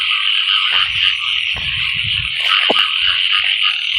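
Frogs croak in several short bursts over a dense, continuous chorus of frogs calling in a rain-filled rice field at night.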